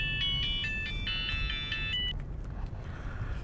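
A phone ringtone plays a bright, repeating electronic melody in short pulsed phrases for about two seconds. It stops abruptly over a low background hum.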